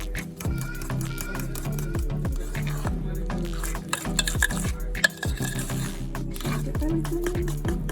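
Cookie dough with butter and eggs being stirred in a bowl for chocolate chip cookies, a steady wet scraping and squishing that runs continuously throughout.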